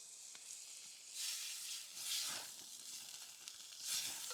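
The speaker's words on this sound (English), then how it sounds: "Just gonna put the meat slices on the fire here." Meat slices sizzle in a burning-hot pan over an open campfire in the woods, a steady faint hiss swelling into louder surges several times, with no talking.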